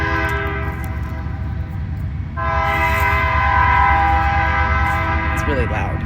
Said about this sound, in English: Oh, look at the train.